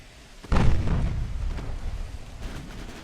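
A single heavy naval gun blast from the heavy cruiser USS Baltimore (CA-68) in Ultimate Admiral: Dreadnoughts lands as a sharp boom, then fades into a long, low rolling rumble.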